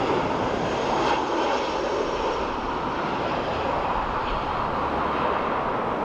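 An Aer Lingus Airbus A320 in retro livery roars at take-off/go-around thrust over Dublin Airport, a dense, steady, loud engine rush filling the air with no voices over it.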